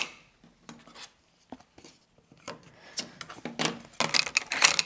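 Rotary or blade cuts slice fabric squares across both diagonals for a quilted table runner, giving quiet, close scraping strokes in irregular bursts that grow busier and louder toward the end.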